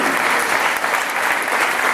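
Dense, steady applause from an audience at a 2017 election hustings in Southall, Ealing, greeting the candidates; a full, even wash of clapping with no voices over it.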